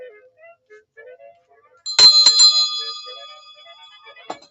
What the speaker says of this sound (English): I forgot to ring the bell.